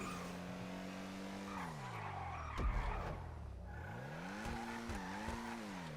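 A Lampadati Komoda sports car in GTA races around a test track, its engine revving steadily then dropping and climbing again through gear changes, with a brief tire skid in the middle; loud and continuous, no talking.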